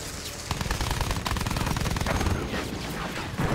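Sustained rapid machine gun fire in the Battlefield 1 campaign, a dense continuous rattle of close, loud shots throughout.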